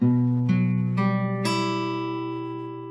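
A guitar power chord with an added note, picked string by string, each note ringing into the others and sustaining together as the sound slowly fades.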